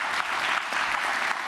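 A crowd at Les Sables d'Olonne applauds to encourage Vendée Globe skipper Jean Le Cam, a brief, even, continuous burst of many hands clapping.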